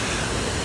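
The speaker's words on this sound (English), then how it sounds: "the water's rushing past today, but it's lovely" River water rushes past at a tranquil Scottish retreat, filling the clip with a loud, dense, steady hiss close to the microphone, with no voices.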